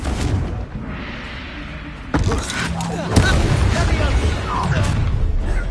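Fiery spell blast from Confringo in the video game Hogwarts Legacy, a loud burst followed by crackling, rumbling impacts and continuing combat noise, with no speech heard.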